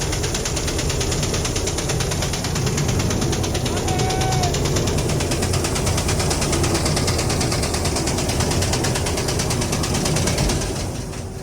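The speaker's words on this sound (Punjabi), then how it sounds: "ਜ਼ੋਰ ਅਜਮਾਈ ਚੱਲਦੀ ਆ ਟਰੈਕਟਰ ਦੀ" A tractor strains to pull a stuck trolley, about 18 feet long, out of soft ground beside a wheat field, its engine a loud, continuous laboring drone with mechanical rattling throughout.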